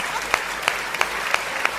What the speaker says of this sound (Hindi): और जब मोदी जी आते हैं तो देख रहे हो आप तालियां माहेश्वरी समाज की।